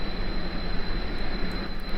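Small propeller or jet engines on a slow, lightly powered plane in Kerbal Space Program drone steadily as a broad, even roar with a faint high whine, continuous and fairly loud throughout.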